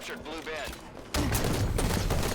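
Gunfire rattles from a Halo 5 competitive match: a quieter stretch gives way to a sudden, dense burst of shots that fills the second half. It is heard under a commentator's voice.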